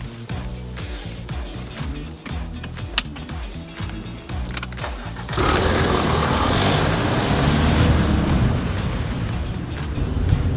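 Interior ride noise in a Mazda 5 MPV on the move, with a steady road rumble and engine drone that grows broader and louder partway through, and no talking.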